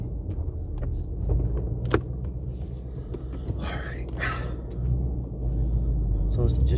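A manual-transmission car idling and moving off on a driveway for a short cruise, a low steady engine rumble with a few door-like knocks and faint voices in the background.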